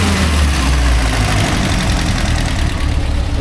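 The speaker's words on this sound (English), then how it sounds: "the engine will sound like it runs better with way too much ignition timing in it" A 1954 civilian Jeep engine idles after its ignition timing was adjusted, a loud, steady, even rumble running unbroken throughout with no talking.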